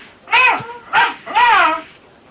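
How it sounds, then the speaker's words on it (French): Two small young dogs, one and a half to two years old, bark outdoors, heard over a phone call: three loud, ringing barks in quick succession, the last drawn out, alone without talk. "Tu les fais aboyer un peu pour que j'entende comme ils sont?"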